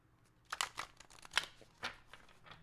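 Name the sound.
shuffling a deck of tarot cards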